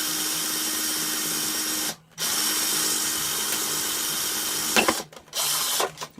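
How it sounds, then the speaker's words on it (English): Power drill boring through the plastic body shell of a Redcat Everest 10 RC truck, a loud steady whine close up, broken by two brief pauses before spinning up again. "That's because I had a piece of stuff on there on the drill bit."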